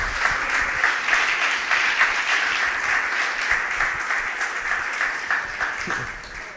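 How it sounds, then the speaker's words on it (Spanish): Sustained applause from a large church congregation, steady dense clapping for several seconds with a slight rise and fall in intensity. "Dale un fuerte aplauso al Señor"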